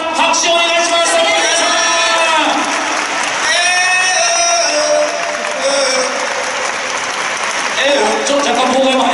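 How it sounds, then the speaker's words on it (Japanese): An audience at a Chunichi Dragons baseball fan festival applauds during a players' costume and makeup contest. The loud, continuous clapping is mixed with cheering and amplified voices talking over the crowd throughout. "拍手をお願いします"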